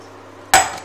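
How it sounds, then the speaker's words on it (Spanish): A glass of water pours into a cooking pot for Maggi noodles, starting abruptly after a quiet hum as a loud, bright splash that tapers off briefly. "Ahora vamos a poner agua"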